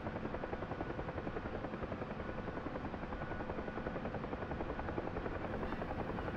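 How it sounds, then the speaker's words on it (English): A steady helicopter rotor drone from a Bell UH-1 in a flight simulator game, settling during takeoff and landing, with a dense, throbbing thrum, loud and constant throughout, no voices. "The helicopter begins to settle."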